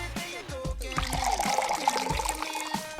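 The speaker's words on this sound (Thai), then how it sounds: "เราก็จะเอาน้ำเนี่ยเทใส่กระทะให้ท่วมมันนะคะ" Water is poured into a pan over peeled cassava, making a gurgling, trickling splash that rises and falls in uneven bursts at close range.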